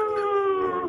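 A person imitates a wolf howl with one sustained, slightly wavering tone, loud and close, fading at the end.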